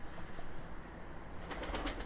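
Rare golden pigeons of the Miro breed cooing softly in a loft, low murmuring coos over faint steady background noise, with a flutter of wings or movement near the end.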